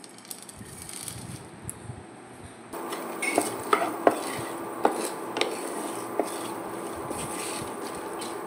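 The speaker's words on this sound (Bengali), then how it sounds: "এগুলো শুকনো খোলায় আমি ভেজে নেব" Whole spices, including cumin, coriander, cardamom, fennel, dried chillies and peppercorns, are dry roasted in a pan. Stirring scrapes and light metallic clinks come close and fairly quiet over a soft background hiss.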